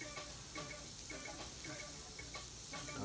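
Shrimp frying in a pan, a steady close sizzle with soft crackles and faint stirring scrapes, heard alone without talking.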